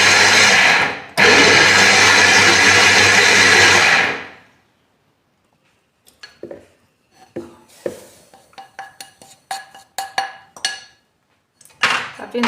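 An electric mixer whirs loudly and steadily for several seconds, beating semolina batter for basbousa, then stops; scattered clinks and taps of a bowl and utensils follow.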